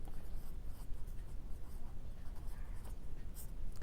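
Chalk or marker scratching steadily across a board during a lesson on neon lamp operation, a continuous dense rubbing texture with small strokes and pauses, fairly close and moderately loud, with no talking.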